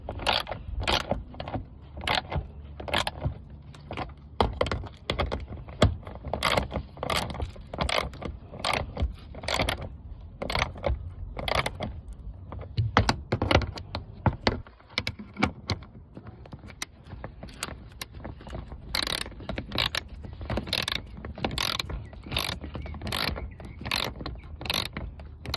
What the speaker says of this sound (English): We just need to tighten the bolts here on the wheel wells on each side